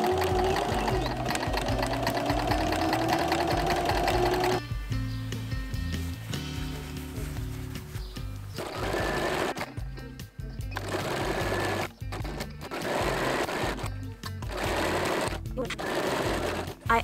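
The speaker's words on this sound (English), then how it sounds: "just so that you can see how I zigzag the edges so that you can keep them from fraying" A sewing machine runs a zigzag stitch along fabric edges, whirring in long bursts of rapid needle clatter separated by short pauses, close and clear, with a voice speaking over parts of it.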